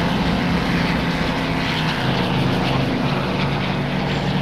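A Spitfire Mark I's propeller engine drones loud and steady in a flight simulator, a constant close-up roar of the piston engine with a faint rhythmic pulse throughout.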